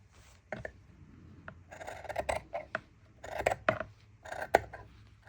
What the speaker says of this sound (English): I'll probably cut a little bit off of the ends here as well.